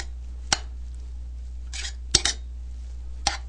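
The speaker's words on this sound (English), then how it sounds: "So I'm going to give the rice just a little toss here, just to get the almonds and the orange zest in there" Rice with almonds and orange zest tossed in a pot, giving a few sharp metallic clinks and brief rustling scrapes spaced apart against a quiet background, no talking.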